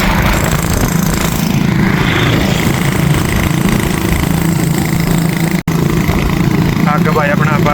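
Hero Splendor motorcycle riding ahead of a scooter on the road, a continuous loud engine drone with wind buffeting, a brief dropout near the end, and someone talking over it.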